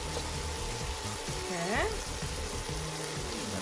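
Vegetables sizzle and fry in a pan with scallop, tomatoes, garlic and onion as pepper is added, a steady crackle under a brief rising voice-like tone, no clear words.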